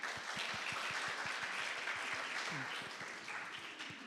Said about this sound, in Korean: 여러분 교수님께 큰 박수 부탁드립니다.